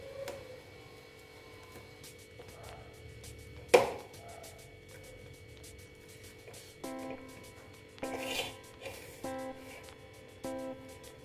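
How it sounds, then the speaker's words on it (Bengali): A knife chops spiny gourd (kakrol) into large pieces on a board: one sharp, loud cut, then a series of lighter, spaced knocks and clicks nearby in a quiet kitchen. "বড় বড় করে কেটে নিচ্ছি।"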